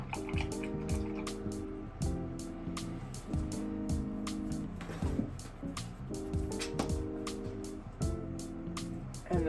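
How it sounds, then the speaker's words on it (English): An acrylic paintbrush is washed out in water, making soft repeated dripping and tapping sounds over a steady tonal background. "go ahead and wash out your brush"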